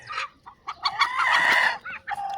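Free-range desi chickens cluck and squawk in short, overlapping bursts nearby in a low-cost poultry shed, and a rooster lets out a drawn-out crow in the middle.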